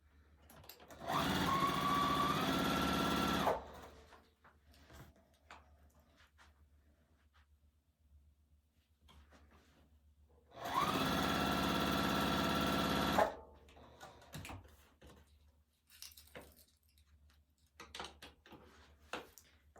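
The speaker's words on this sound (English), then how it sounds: "So now we'll just start sewing this middle section together around the window." Two separate bursts of a sewing machine, each a few seconds long and evenly loud, join quilt pieces around a window section of a barn quilt. Quiet handling noises and small clicks fill the pauses between bursts.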